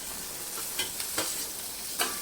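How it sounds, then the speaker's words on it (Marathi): Chopped okra sizzles in a hot oil tempering with turmeric, a close steady fry with a few sharp spoon stirs against the pan, no voices. "त्यानंतर ही जी भेंडी चिरून घेतली ती याच्यामध्ये टाकून घ्यायची"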